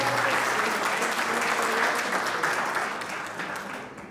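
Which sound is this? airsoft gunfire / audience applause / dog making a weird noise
audience applause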